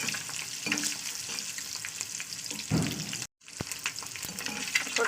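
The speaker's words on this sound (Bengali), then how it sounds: "চলুন ডিমটা ভাজা করে নিই" An egg fries in hot oil with a little salt added. A continuous close sizzle with scattered crackles is cut by a short silent gap midway, then the sizzling resumes, with no talk.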